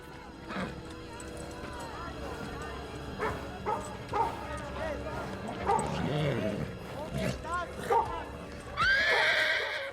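A white horse in the film Nosferatu neighs and whinnies in several loud bursts, with hooves clip-clopping and dogs barking around it, ending in a long shrill whinny.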